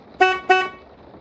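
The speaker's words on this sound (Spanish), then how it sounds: "el claxon detrás de mí me devolvió a la realidad" A car horn gives two short, loud honks close behind, with a brief gap between them and nothing else around.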